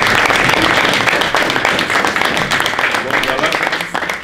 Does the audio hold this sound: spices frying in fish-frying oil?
no